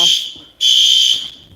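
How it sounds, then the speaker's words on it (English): A fire alarm blares in two loud, close bursts of harsh, high electronic buzzing, with a short break between them. "They fooling with the fire alarm"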